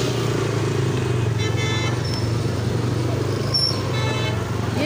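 Motorbike creeping slowly through dense street traffic, its steady engine drone close and continuous with a busy road hum around it and faint horn toots in the distance.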